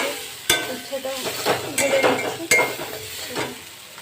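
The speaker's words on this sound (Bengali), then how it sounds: "আমি বললাম যে একটু উচ্ছে ভাজবো" Slices of bitter gourd fry in a pan with a soft sizzle, broken up by sharp metal clinks of a spatula or utensil against the pan and quieter scraping in between.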